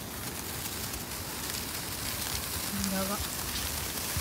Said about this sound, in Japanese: 雨降ってきた、雨降ってきた。